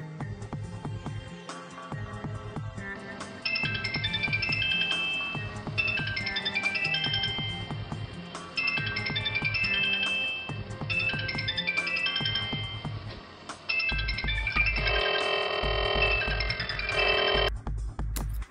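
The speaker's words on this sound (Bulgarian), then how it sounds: "Смартфонът продължи да звъни, да вибрира и дори да отчита докосвания на пръстите ни под вода." Sony Xperia Z smartphone ringing underwater, a loud looping electronic ringtone melody with a repeating low rhythmic pattern, continuous and without talk.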